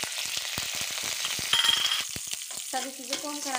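Green chillies, mustard seeds and curry leaves with chana dal crackle in oil in a kadhai, with dense close sizzling and popping and scraping stirring, plus a brief high tone partway through.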